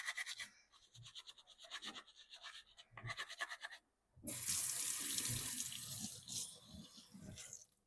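A paint brush is scrubbed with Dawn dish soap on a small scrubbing pad, first as rhythmic scratchy strokes, then under a loud gush of running tap water that goes on while the scrubbing continues.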